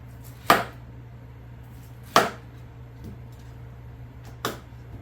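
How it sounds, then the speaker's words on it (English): A knife cuts a whole pineapple into rings on a board: three sharp, separate chops with pauses between them, close and crisp against a quiet background. "First, I'm going to cut it into rings."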